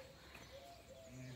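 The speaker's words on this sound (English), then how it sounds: "with a pigeon" Pigeon cooing near an old house with an ornate iron railing wall, a faint, soft low coo heard briefly against quiet outdoor background.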